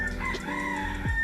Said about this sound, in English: If you hear chickens, I am so sorry